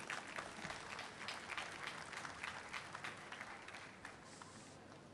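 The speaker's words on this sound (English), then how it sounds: "Give him a big round of applause." An audience gives a round of applause for the chief guest, an Air Vice Marshal, at an 80th-anniversary event, a sustained, fairly distant wash of clapping.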